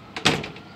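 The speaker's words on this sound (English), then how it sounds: "Come through this door." A door on a historic railroad passenger car at a railroad museum opens with a short sliding rumble and a soft knock, close and brief, in a quiet interior.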